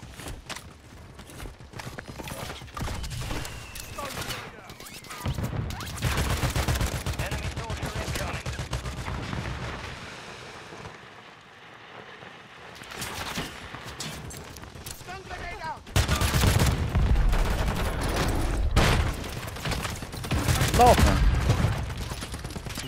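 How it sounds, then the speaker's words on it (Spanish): Video game gunfire comes in rapid bursts and scattered shots with a brief lull in the middle, mixed under near-constant excited talk from players. "Están disparando ya enfrente, muchachos."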